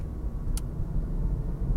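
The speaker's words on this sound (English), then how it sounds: "The car in front of me is a Chevrolet." A Chevrolet car drives along the road ahead, a steady low engine and tyre rumble that continues throughout, with a brief faint tick partway through.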